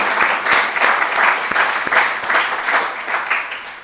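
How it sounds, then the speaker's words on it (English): Audience at a university health awards celebration applauds an absent award recipient, a steady wash of clapping from many hands with a few sharper individual claps standing out, sustained evenly throughout. "We'll clap again for Carrie."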